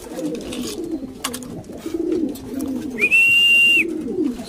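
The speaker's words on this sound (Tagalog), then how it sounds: "So 8:27 pumasok si Solpak mga kalapatids" Pigeons cooing softly and repeatedly at a club loft as they come in from a training flight, close and low, with a high whistle-like tone partway through.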